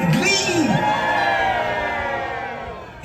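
At a LEGOLAND Windsor Christmas harbour show at night, a crowd including children cheers and whoops loudly, a dense swell of shouts that gradually fades.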